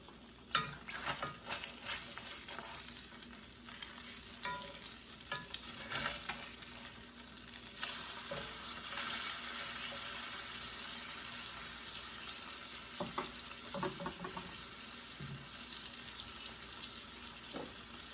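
Blackened catfish frying in a pan as it is flipped, a continuous soft sizzle with scraping and clattering utensil sounds, strongest early on, then a steadier, quieter hiss, with no talking.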